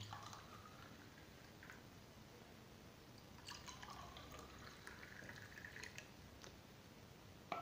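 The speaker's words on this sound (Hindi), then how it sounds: "तीनों बीकर में हम पानी को ढाल लेते हैं" Plain water poured into three glass beakers during a phenolphthalein indicator demonstration, a quiet trickling and splashing with faint drips, close and soft with no talking.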